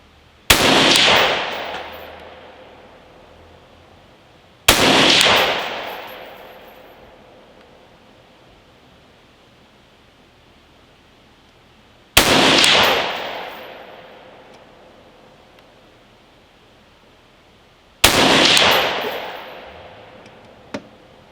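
Four sharp rifle shots from a 5.56 fitted with a VG6 Gamma muzzle brake, each a loud crack with a long decaying tail, spaced several seconds apart outdoors.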